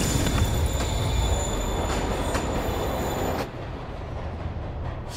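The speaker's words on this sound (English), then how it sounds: "Train moving." A train moving in the video game Marvel's Spider-Man rumbles loudly and close, with wheels squealing on the rails and faint rhythmic clacks, before the roar drops off sharply to a quieter rumble.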